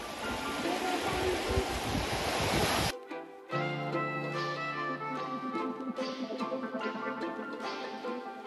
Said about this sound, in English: All right, we're gonna go down the beach.